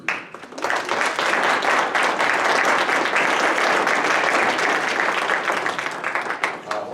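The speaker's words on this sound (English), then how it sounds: "I think everybody here deserves a round of applause" Audience applause at a legislative roundup event, a dense wash of clapping that swells quickly, holds steady and loud for several seconds, then thins out toward the end.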